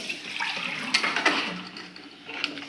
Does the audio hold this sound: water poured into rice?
yes